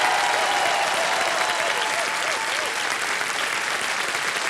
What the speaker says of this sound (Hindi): तालियां बज जाए